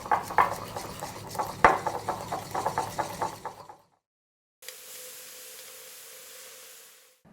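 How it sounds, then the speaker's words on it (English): Double cream being whisked by hand in a bowl, a quick rhythmic run of metal clinks and taps close up, stopping abruptly and followed by a steady faint hiss. "So here we go, whisking our double cream."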